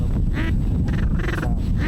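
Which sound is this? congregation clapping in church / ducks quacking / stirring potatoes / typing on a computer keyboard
ducks quacking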